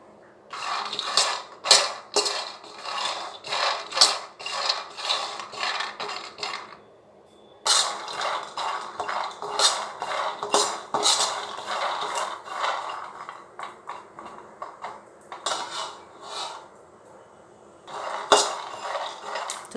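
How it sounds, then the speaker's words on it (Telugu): Peanuts dry roasting in a pan with no oil rattle and clink steadily as they are stirred, in irregular bursts with a short pause midway. "ఈ పల్లీల్ని దీనిలో వేసేసుకోండి. వీటిని మనం డ్రై రోస్ట్ చేయాలన్నమాట."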